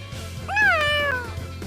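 A cat in the PS3 game Tales of Xillia 2 lets out a single clear, drawn-out meow that rises and falls, heard up close over a low steady hum.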